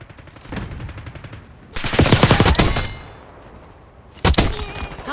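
Rapid automatic gunfire in Call of Duty Black Ops 6 multiplayer: a short burst, then a longer loud sustained volley, and after a pause another sharp burst. The shots sound close and dominant.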